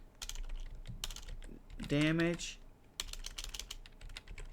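Typing code on a computer keyboard, quick irregular clicks at close range that pause while a person speaks briefly, then resume.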